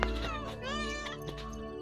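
A pet cat meows up close in one drawn-out, wavering cry that bends in pitch, with a steady electronic hum underneath.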